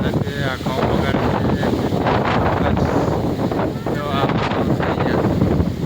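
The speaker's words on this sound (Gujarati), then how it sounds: "જોરદાર પવન આવે છે." Powerful wind rushing through a wheat field on a village farm as rain arrives, a dense continuous roar with heavy gusts hitting the microphone, a voice faintly underneath.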